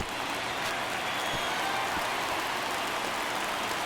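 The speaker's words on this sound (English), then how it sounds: "Crowd locked in right now." A baseball stadium crowd in a video game during a tense ninth inning fills the air with a steady, dense roar of cheering and clapping, constant and enveloping.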